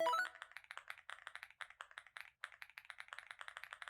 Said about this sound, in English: That's my actual keyboard.